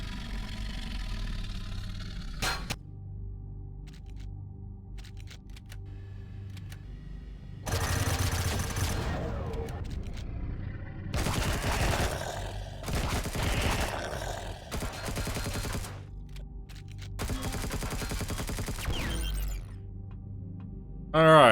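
A turret fires at drones in the sci-fi game Empyrion, in several rapid, crackling bursts separated by quiet gaps, with a voice speaking now and then.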